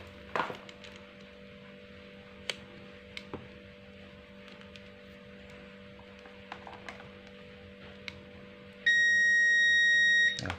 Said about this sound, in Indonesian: multimeter berbunyi